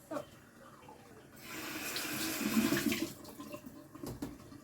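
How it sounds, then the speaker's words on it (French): Radish greens are rinsed in a kitchen sink under a running tap, the water swelling to a strong, close rush in the middle before easing off, with faint handling noises around it. "Ça, je vais le mettre dans mon évier. Je le rince, ça je le rince."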